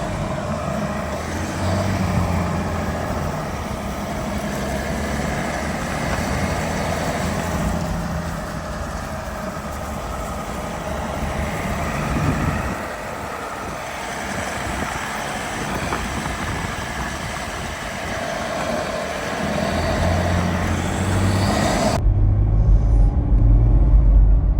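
Steady engine rumble of an INEOS Grenadier 4x4 SUV driving in cold, windy winter weather in England, with road and wind noise throughout, rising slightly toward the end before an abrupt cutoff.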